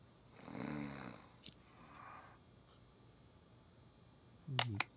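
A sleeping character in a murder-mystery video game snores, with two soft breathy snore swells and a louder, harsher snort near the end, all fairly quiet.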